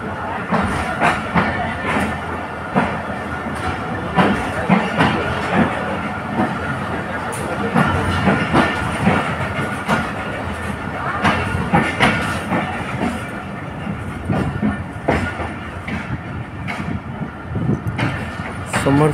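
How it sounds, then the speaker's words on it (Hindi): A train pulling out of Samasata railway station in Pakistan, a steady loud rumble of rolling cars with rhythmic clicks of wheels over rail joints, close and continuous, with faint voices in the background. "ये हम डिपार्चर हो रहे हैं समरसट्टा रेलवे स्टेशन से"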